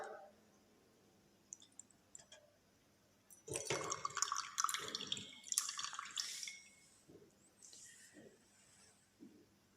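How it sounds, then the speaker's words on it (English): Water displaced from a Eureka can trickles and drips into a small beaker, faint isolated drips at first, then a busier stretch of splashing and clinking in the middle before tapering to scattered drops. "the water which will be displaced out, it will be collected in the small beaker"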